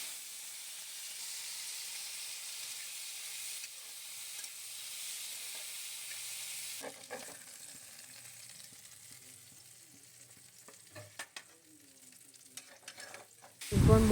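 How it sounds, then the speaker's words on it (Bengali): Chopped eggplant, marinated in turmeric and salt, sizzles steadily in hot oil in a pan for a Bengali banana flower curry, a constant bright frying hiss with occasional stirring scrapes and clinks toward the end. "আলু ভাজা হয়ে গেলে সাইডে তুলে রেখে দেবো আর কিছু বেগুন কুচি ভেজে নেব।"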